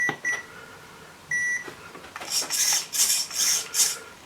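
An RC car's electronic speed controller on an FTX Outback powers up with a few short, clear electronic beeps, followed by brief raspy whirring bursts in a rhythmic sequence.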